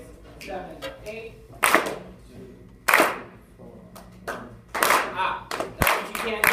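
A group of students in a school music class claps out a rhythm, giving several crisp, irregularly spaced claps, with a teacher talking in between.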